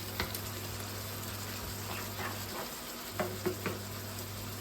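Chicken hearts fry in a pan, turned partway through. A steady sizzle runs throughout, with a few sharp taps and clicks from the pan rising above it.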